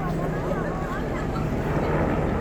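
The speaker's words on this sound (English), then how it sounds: "You got a helicopter up there." A helicopter flies overhead above Panglao, Bohol, heard as a low, steady, distant droning rumble beneath people talking.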